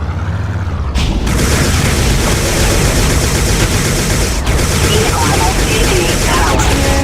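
Loud, continuous missile explosions and heavy weapon fire from the 1999 tank combat video game Recoil form a dense, unbroken barrage with almost no pause.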